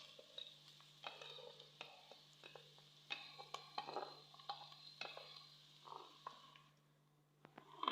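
Garlic goes into browning onions in a pan, sizzling faintly while being stirred. Soft scrapes and clinks of a utensil against the pan repeat every second or so, with no talking.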